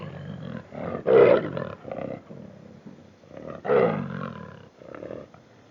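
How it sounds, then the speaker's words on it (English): A lion and a tiger roar, two deep, powerful roars separated by a short pause, each followed by lower rumbling growls, loud and close. "Lions and tigers roar."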